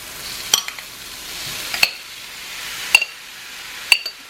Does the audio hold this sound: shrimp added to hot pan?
yes